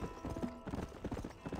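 Hooves of a horse in the Red Dead Redemption video game clip-clop in a steady, quick gallop rhythm, close and continuous throughout, with faint game ambience underneath.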